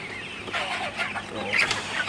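Several Sonali super hybrid chickens cluck and chatter close by in short, uneven bursts while being given water in the morning, with a steady low hum in the background.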